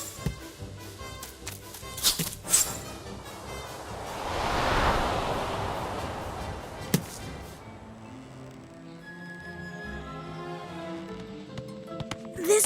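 Rushing water from an upside-down waterfall in the video game Psychonauts 2 swells and fades as a broad wash, with sharp clanks and whooshes on top.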